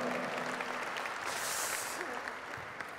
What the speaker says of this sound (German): Applaus für den Medigan, meine Damen und Herren